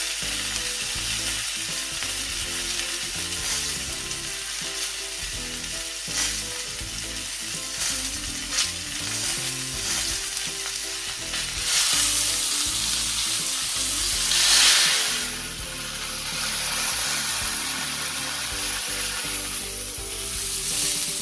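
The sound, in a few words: rib eye steak frying in a pan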